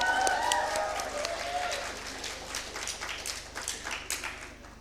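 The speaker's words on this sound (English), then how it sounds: "a round of applause for ourselves." Graduates applaud at a college commencement ceremony, dense clapping with some cheering tones at the start that thins into scattered individual claps as it fades.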